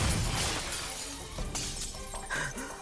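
Glass shattering under gunfire in the visual novel game Mahoutsukai no Yoru, a loud continuous crash of breaking panes with scattering shards and tinkling debris, close and dense throughout.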